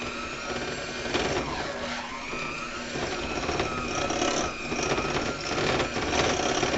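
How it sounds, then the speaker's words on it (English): An electric mixer beats no-bake Oreo pie filling with vanilla extract in a steady, continuous whirring hum with a faint rattling texture, fairly quiet and without talk. "we're going to take our mixer and mix it up really,"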